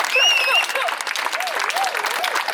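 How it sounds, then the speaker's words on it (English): Applause from a protest crowd in Coventry, a dense burst of clapping with cheers and whistles, while a voice calls out over it. "Round of applause for all of you guys coming out."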